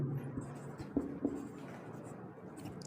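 Soft writing on a board during a Class 12 physics lesson, faint and steady, with a couple of light taps against a quiet room background.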